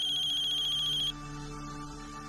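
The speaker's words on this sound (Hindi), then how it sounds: "एक फोन आ गया है।" A telephone rings with a steady high electronic tone for about a second before cutting off, leaving a low background hum.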